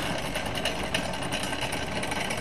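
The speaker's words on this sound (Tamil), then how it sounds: "ஒரு ஜெனரேட்டர் யூஸ் பண்ணி இன்னொரு ஜெனரேட்டர் ரன் பண்ற மாதிரி தான் பண்ணியிருக்கேன்" A homemade generator runs while driven by a second generator, giving a steady, dense mechanical whir and hum that stays loud and even throughout with no talk.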